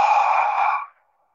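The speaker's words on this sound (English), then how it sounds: "and then breathe out" A slow breath out during a guided meditation breathing exercise, a single soft breathy exhale lasting under a second that fades into silence, close and alone.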